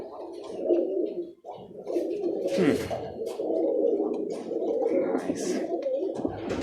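Young Birmingham Roller pigeons coo steadily and close by, a continuous low, throaty rolling murmur with wing flutters and soft rustles, while a person briefly speaks over it.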